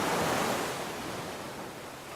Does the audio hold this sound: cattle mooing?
no